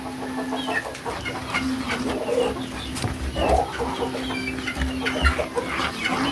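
Hungry chicks clucking and peeping together in a busy, continuous chorus at close range before a wet feed, with no talking over the calls.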